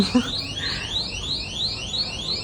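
A loud electronic alarm rings steadily, its tone sweeping upward over and over in a fast, repeating pattern.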